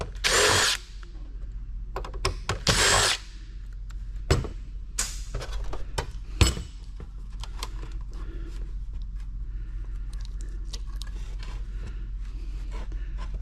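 A power drill removing screws from an arcade game cabinet: several short, loud whirring bursts of a few seconds each, with clicks and clatter of parts between them, close by and with no talking.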